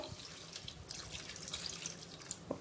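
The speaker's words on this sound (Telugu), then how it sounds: "ఇప్పుడు ఇందులో మనము వాటర్ వేసేసుకుందాము" Quiet trickling and splashing of about a glass of water running into a cooking pot, soft and continuous with a few small drips near the end.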